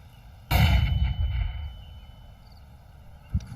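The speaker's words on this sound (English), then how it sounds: "Flashbang." A flashbang grenade bursts in Counter-Strike 2 with one sharp loud bang and a short ringing tail, then a faint small pop near the end.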